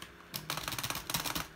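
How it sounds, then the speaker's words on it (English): A computer keyboard bashed hard during Roblox gaming: a fast flurry of loud, clattering keystrokes in irregular bursts, close to the mic, with no talk. "I'm bashing me keyboard."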